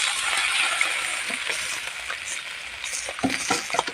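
Rice stir-fried in a hot pan with mushrooms gives a steady, close sizzle, while the spatula scrapes and tosses in irregular clacks.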